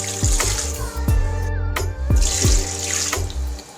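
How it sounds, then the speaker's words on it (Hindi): Water pours by the glass in repeated splashing glugs into a metal pot, loud and close, with ringing resonant tones between pours. "अब 5 गिलास हम पानी शामिल करेंगे।"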